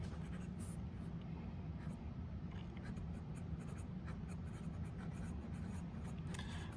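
An Esterbrook SD Lilac fountain pen with a journaler nib scratches softly across paper, a faint, continuous, close-up writing sound with tiny stroke-by-stroke ticks.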